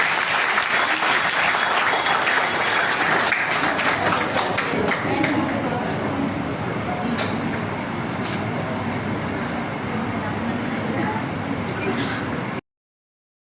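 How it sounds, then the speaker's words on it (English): Students and teachers clap at a school painting competition in Ahmedabad, a loud, continuous round of clapping that slowly thins before cutting off abruptly. "Clap for this one."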